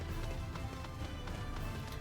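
Galloping hooves of a mount in the Final Fantasy XIV video game, a steady rapid clip-clop rhythm running continuously at moderate level over a low rumbling game soundscape.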